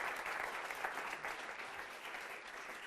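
An audience at a mentalism stage show gives a short burst of dense applause, the clapping steady and even for a few seconds before easing off slightly.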